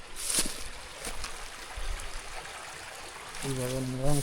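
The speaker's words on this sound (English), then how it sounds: "River is still down there." A mountain river in a rural Jamaican community rushes steadily as continuous broadband water noise, with a brief tonal, voice-like sound near the end.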